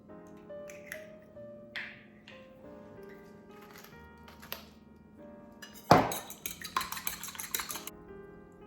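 Eggs with pepper beaten in a bowl, heard as light clinks and taps of utensil on dish, a few sparse knocks and then a brisk burst of rapid clattering strokes near the end.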